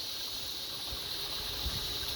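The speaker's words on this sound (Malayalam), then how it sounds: "അവിടെ നിന്ന് ഒഴുകി വരുന്ന വെള്ളമാണ് ചെറിയ തോട് പോലെ ഒഴുകി വരുന്നതാണിത്" A small stream of water flows down from a pond through hilly farmland in Idukki, a steady, continuous hiss and rush with no voices.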